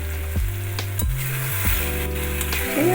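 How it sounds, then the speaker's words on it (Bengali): Pre-fried chicken, rubbed with salt and turmeric, goes into a cooked-down masala in a kadai for a pumpkin chicken dish, giving a steady close sizzle with spoon stirs and scrapes. "এবারে সেই চিকেনটা আমি দিয়ে দিচ্ছি।"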